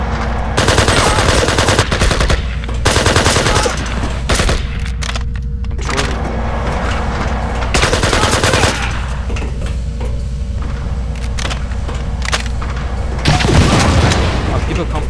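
Rockets and automatic gunfire in the shooter game Project I.G.I., mission 14, as dense, continuous bursts and booms that fill the whole stretch, loud and close throughout with little pause.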